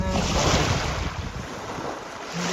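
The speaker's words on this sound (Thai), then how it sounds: "โอ้ยสุดยอด น้ำไหลครับ โอ้ยยังไหล" Water rushes and flows at a campsite on Kinbrook Island, a broad, continuous hiss that stays close and fairly loud throughout, with wind buffeting the microphone and no talk.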